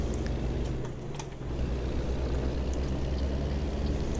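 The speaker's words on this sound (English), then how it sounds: "let's hear how this thing sounds" A truck engine in American Truck Simulator idles and rumbles with a steady low drone, briefly dipping before settling into a constant hum, heard alone without talk.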